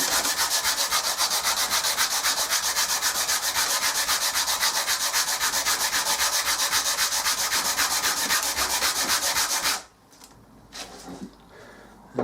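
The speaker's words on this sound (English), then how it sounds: "I've basically got now to rub out all the black, and generally I just do a backwards and forwards motion" Steady rapid back-and-forth rubbing on wooden scales to remove black ink, a close, loud scratchy sanding rhythm that stops abruptly near the end.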